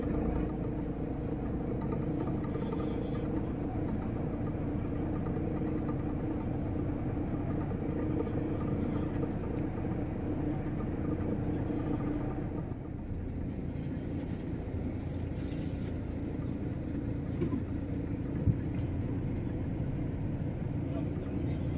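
Motorcycle TFA 471 with its engine running, a steady low rumble that holds for the whole stretch at a constant level, close by, with no voices over it.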